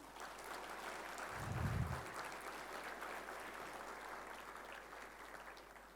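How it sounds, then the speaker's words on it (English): A large audience at an ICAI gathering claps, heard faint and distant as a continuous broadband patter with no voices over it. "Can I have a mega round of applause for all the fathers"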